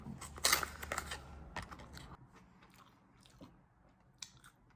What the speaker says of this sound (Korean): 태어나서 청심환을 처음 먹어